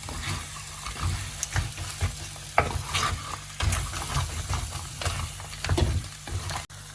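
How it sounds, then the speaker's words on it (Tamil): Mud crab curry mixture cooked village style is stirred in a pan, with sizzling and irregular scraping, clattering stirring strokes close by and no talk. "இந்த நண்டை பிடிச்சி எல்லா மிக்சரும் சேரக்கூடிய மாதிரி இப்படி நல்லா மிக்ஸ் பண்ணணும்."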